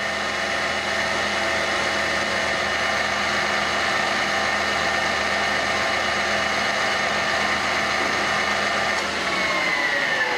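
A lathe spins a cast JXL band part against a solvent-soaked cloth, giving a loud, steady motor whine with a rough hum that holds constant throughout, then dips slightly near the end.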